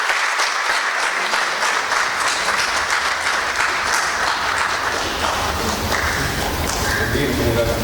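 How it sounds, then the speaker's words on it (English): At a school felicitation ceremony, an audience applauds award-winning students from Salwan Public School, sustained, loud clapping throughout, growing fuller and more crowded toward the end. "So let the applause go on when our achievers receive their honor."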